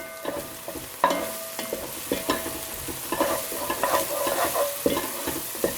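A spoon stirs ginger garlic paste and turmeric into golden frying onions for a lamb curry, giving scraping knocks and soft sizzling in an uneven rhythm, close and moderately quiet.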